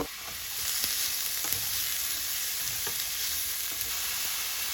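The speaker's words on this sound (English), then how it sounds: "what I'm looking for is for the onions to caramelize" Chopped onions sauté in a pan for shakshuka, giving a loud, continuous sizzle with a few soft scrapes of stirring over the top, close up and without speech.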